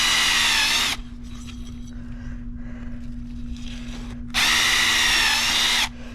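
A power drill boring into a plastic bucket whines loudly in two bursts, about a second at the start and again near the end, with quieter rumbling and handling noise between them.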